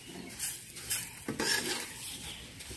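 Semolina being roasted in a pan over medium heat: a soft dry scraping stir with faint sizzle and light utensil contact, close and continuous, no talking.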